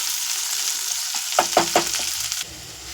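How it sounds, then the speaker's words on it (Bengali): Potato pieces sizzle steadily in a frying pan while a spoon stirs them, giving a cluster of three or four scraping knocks midway over the constant hiss; no voices. "এখানে দেখতেই পাচ্ছ আলু মোটামুটি ভাজা হয়েছে"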